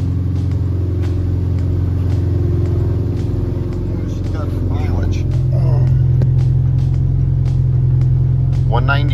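A Subaru engine fitted in a VW bus runs steadily with a low droning hum and a slight rise in pitch partway through, while people talk over it.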